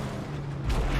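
A deep, rumbling explosion booms in the Mad Max video game, filling a brief moment with heavy low-end roar and no talking over it.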